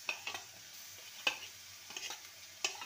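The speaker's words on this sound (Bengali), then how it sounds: "আদা রসুনকে ভালো করে কষিয়ে নেব।" Ginger-garlic paste stir-fried with onions in a pan for egg ghugni, giving a faint, steady sizzle broken by a few louder scraping stirs.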